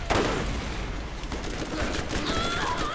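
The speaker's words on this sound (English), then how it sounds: "I'm running up and I'm just, like, shotgunning them with a sniper." Rapid gunfire from the video game Borderlands rattles in a dense, continuous volley with a loud boom at the start, while a player's voice is faintly present underneath.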